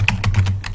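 A computer keyboard is typed on with a handful of quick, close keystrokes, ending in an Enter press, crisp and fairly loud with no talk over them.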